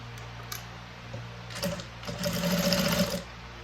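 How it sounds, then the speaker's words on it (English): A sewing machine runs a corset dress seam with a half-inch allowance, starting in short bursts and then settling into a brief steady run of rapid stitching, close and clear over a low hum. "So we start sewing on it"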